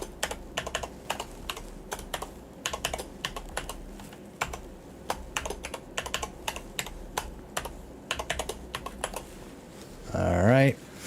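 A password is typed on a computer keyboard in irregular bursts of close, crisp key clicks with short pauses between them, and a voice speaks briefly at the end.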